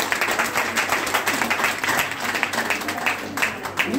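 An audience at a seminar breaks into loud, sustained applause, a dense wash of clapping with some crowd noise that holds steady for the whole four seconds.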